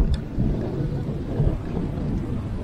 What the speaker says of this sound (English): Bit of a breezy day.